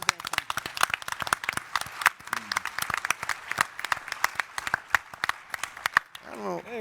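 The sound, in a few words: audience applause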